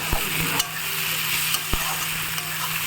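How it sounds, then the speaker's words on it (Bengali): Onions sizzling steadily in a hot pan, a constant close frying hiss broken by a few sharp clicks of stirring. "পেঁয়াজটা আমার হালকা হালকা ভাজা হয়ে গেছে"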